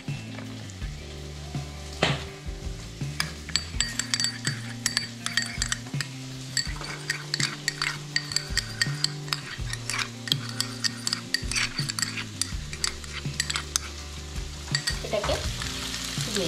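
Chilli paneer being stirred in a pan with chilli sauce and tomato sauce, giving a steady sizzle throughout with frequent scraping and clinking strokes of a spatula against the pan, no talking.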